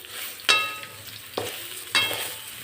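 Dhokla pieces are stirred into a hot tempering in a kadai, three distinct metallic scrapes and clanks over a low sizzle.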